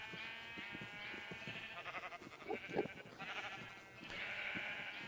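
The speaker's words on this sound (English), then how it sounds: "Oh, sheep, you're so noisy." Minecraft sheep bleat repeatedly in the game over a steady background of music and ambience, the calls fairly close and moderately loud, with no talking.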